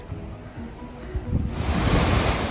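Rushing water of the Dudh Kosi, a mountain river near Monjo on the Everest Base Camp trail in Nepal, a steady broadband roar that swells louder and fuller in the second half, with wind noise on the microphone.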